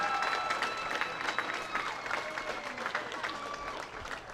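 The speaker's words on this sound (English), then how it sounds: "One more round of applause for all of our singles qualifiers" A crowd claps steadily at a high school bowling championship, a dense patter of applause from an audience, with a faint voice murmuring underneath.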